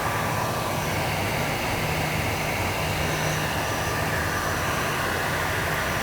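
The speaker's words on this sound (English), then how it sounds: "when you fire your heat gun up" Steady, loud broadband blowing roar from a heat gun running continuously at close range over an epoxy project, with no speech.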